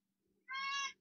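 A single clear cat meow, short and close, rising out of a quiet room with a faint low hum beneath it.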